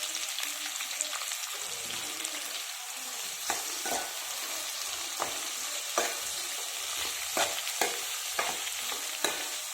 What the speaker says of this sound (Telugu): ఇవి కూడా బాగా ఫ్రై అవ్వాలి.